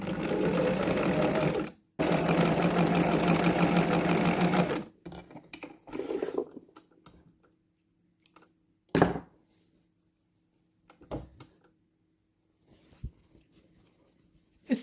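A sewing machine stitches the binding on a quilted table topper in two loud, close, sustained bursts. The machine then stops, leaving soft scattered handling clicks and rustles over a faint hum.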